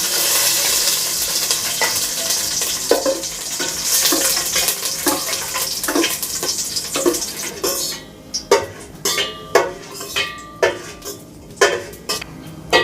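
Raisins frying lightly in a pan for pink balls payasam, a soft sizzle under repeated clinks and scrapes of a spoon stirring against metal, the stirring growing more distinct and rhythmic toward the end.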